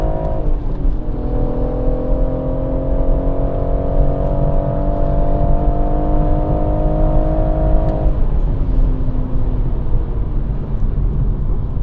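A BMW M140i circles the Goodwood track, its engine droning loud and close with a steadily climbing pitch for about eight seconds before easing off. No one speaks.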